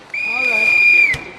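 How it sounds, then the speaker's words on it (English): A referee's whistle at a bowls match in the 2019 British Open qualifying round sounds one steady, loud blast of about a second, ending with a brief dip in pitch, over faint crowd noise. "there's the whistle."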